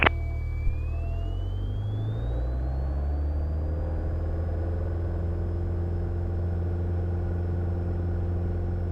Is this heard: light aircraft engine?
yes